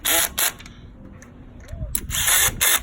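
A pneumatic impact gun set low drives valve cover bolts on a 2002 Acura RSX, giving short loud buzzing bursts near the start and again at the end, with quieter handling noise between.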